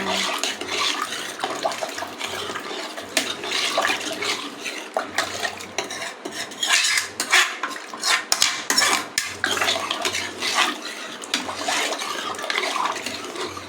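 Metal clatters and scrapes repeatedly as a spoon stirs in a pot, an irregular, busy rhythm with wet sloshing underneath.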